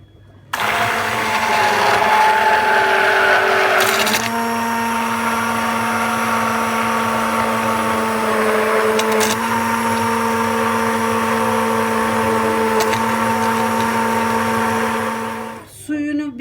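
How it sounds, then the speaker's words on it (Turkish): A blender whirs loudly and steadily for about fifteen seconds, its motor pitch shifting slightly as it purees tomato soup, then winds down abruptly. "Şimdi çorbamızı blenderdan geçiriyoruz."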